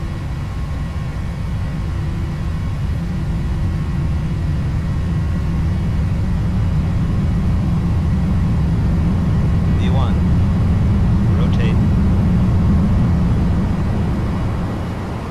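Airliner engines spooling up at takeoff thrust in the FSX flight simulator, a loud steady low roar building gradually over fifteen seconds, with faint radio-style voice traces.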